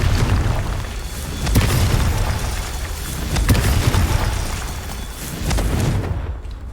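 Confringo spell blasts in the video game Hogwarts Legacy, a few deep booming explosions spaced across several seconds over a rumbling game background, with no voices.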